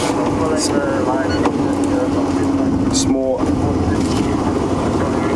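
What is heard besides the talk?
safari vehicle engine running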